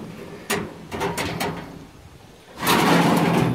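A small metal door being set onto a heavy-duty vintage two-drawer file cabinet fish smoker, giving a few close metallic knocks and clunks followed by a longer scraping rattle.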